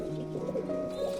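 Pigeons give soft, low cooing calls in a steady murmur over a short stretch, close by while they feed in their loft, with no talking over them.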